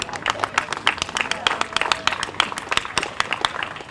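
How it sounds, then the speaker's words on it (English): Audience applause at an outdoor sculpture unveiling in New Bedford, a steady patter of many hands clapping close by throughout, with voices faintly beneath it. "Yes, please clap for that."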